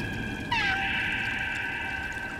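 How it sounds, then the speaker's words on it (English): A cat meows once in the video game Stray, a clear, close, drawn-out call over a quiet ambient background, with no talking. "Oh, they're meowing for me."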